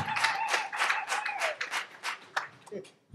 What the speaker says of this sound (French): Applaudissons s'il vous plaît.